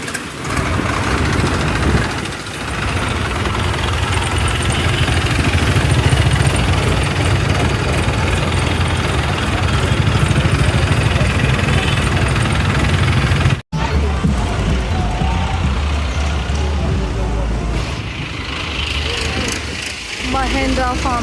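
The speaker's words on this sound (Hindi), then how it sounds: "Mahindra farm tractor." A Mahindra farm tractor engine runs steadily at close range, a loud low rumbling drone with mechanical rattle, briefly cutting out near the end before resuming with clatter; voices talk over it at times.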